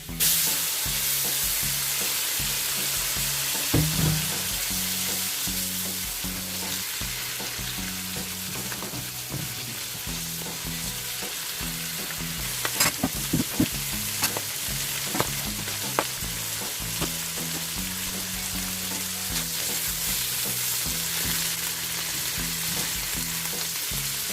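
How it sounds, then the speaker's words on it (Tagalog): Chicken liver sizzles in butter in a pan for a long, loud, steady stretch of close frying hiss, with a few brief clicks of the utensil midway. "half of the butter. And I will fry the liver."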